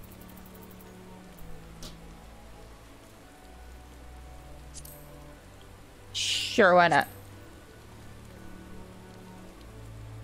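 Steady rain falling in Final Fantasy XIV, a soft continuous patter spread through the scene, with a louder brief burst partway through and a person talking over it.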